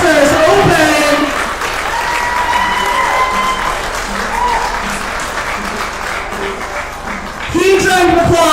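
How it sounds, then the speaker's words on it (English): Steady audience applause for lifters at a Masters powerlifting meet fills the room while an amplified voice talks over it, the clapping swelling again near the end. "Huge round of applause for our top 3 female lifters and for all of our lifters."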